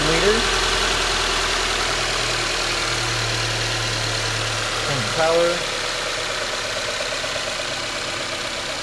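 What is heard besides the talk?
2014 Subaru Forester 2.5 liter engine idling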